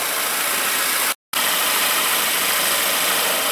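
A Chevrolet Malibu engine with an intake rocker arm solenoid fault idles while warming up with the PCV hose off, a loud steady mechanical drone broken once by a brief dropout in the sound.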